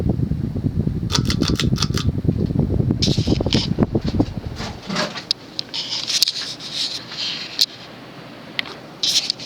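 An Air Cool Emperor knockoff 52-inch ceiling fan turns at about 200 RPM, with a low whooshing hum and rhythmic clicks for a few seconds before the hum drops away, leaving scattered ticks and rattles.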